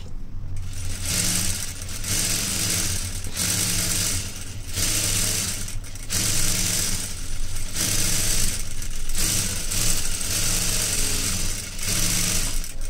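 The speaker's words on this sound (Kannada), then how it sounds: "ಈ ರೀತಿ ನೀಟಾಗಿ ಸ್ಟಿಚ್ಚನ್ನು ಹಾಕ್ಕೊಂಬಿಡಿ." A sewing machine runs steadily, stitching a plain blouse in a tailoring class. It whirs loud and close in long bursts, with brief pauses between the runs of stitching.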